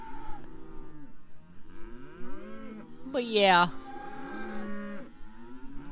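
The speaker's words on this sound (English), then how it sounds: "now the cows all of a sudden get to mooing again" Cattle moo in a farm pen, several drawn-out calls from a few animals overlapping, with one loud, close moo in the middle and a brief bit of talk.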